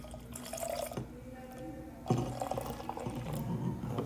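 Weissbier from a 350 ml can pouring into a glass, a close, soft liquid splash and trickle in two bursts with a brief pause, no talking over it.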